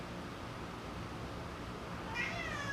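A pet cat meows briefly near the end, a short rising call heard close over a steady low room hum.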